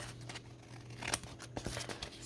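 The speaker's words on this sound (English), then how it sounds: "Now I'm going to go ahead and trim off the edge here." Scissors snip along the edge of a gelli print paper, quiet close-up cutting with a few short crisp clicks and soft paper rustles.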